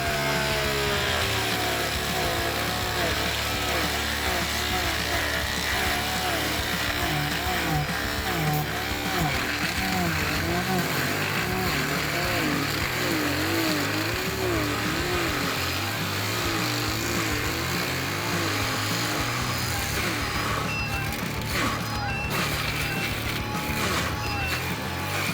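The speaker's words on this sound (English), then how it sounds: "A stump grinder is a specialized machine used to grind down or shred tree stumps left after a tree has been cut down" A stump grinder chewing down tree stumps, a loud continuous engine roar with wavering, churning pitch as the cutter wheel bites into wood, sustained throughout.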